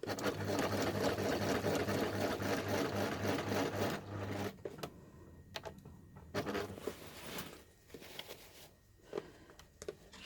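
A sewing machine stitches backpack handles with a fast, steady mechanical whirr and clatter for about four seconds, then stops, leaving softer handling rustles and clicks.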